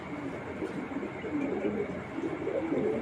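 Racing pigeons, young birds from champion stock kept for sale, coo in low, throaty, repeated murmurs that overlap continuously at close range.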